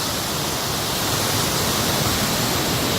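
A waterfall near Antalya roars loud and steady, a dense unbroken rush of falling water close by with no voices.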